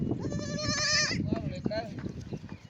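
A sheep lets out a long, wavering bleat close by, followed by a shorter second bleat, amid a crowded pilgrimage route in Alandi with horses nearby, while people talk in the background.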